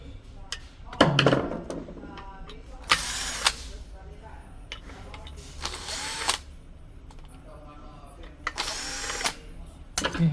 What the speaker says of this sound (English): By using star screwdriver lah.